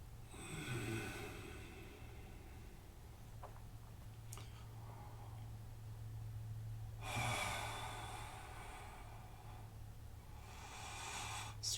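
Slow, deep breaths drawn during a yoga session, with a soft breath early on and two fuller, longer exhales later, faint and close over a steady low hum.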